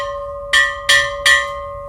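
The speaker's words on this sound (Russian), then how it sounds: "Разбитый колокол совершенно теряет голос" A cracked church bell at a bell museum is struck three times in quick succession, giving clanging hits over a lingering steady hum, close and clear with no voices.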